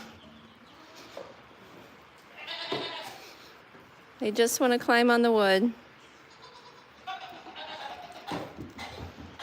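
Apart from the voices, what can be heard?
baby goats bleating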